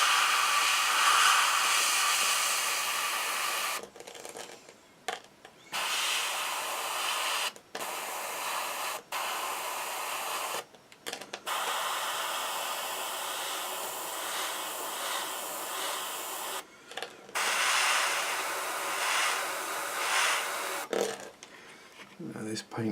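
An airbrush hisses in long spraying bursts of thin paint onto an Eduard Spitfire scale model, separated by short pauses, a steady airy rush close up.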